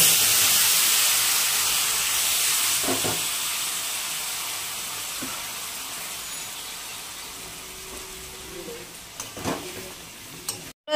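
Mixed vegetable curry hits hot tempered oil with a loud hiss at the start that slowly fades. A few stirring knocks and scrapes follow near the end, and no one speaks.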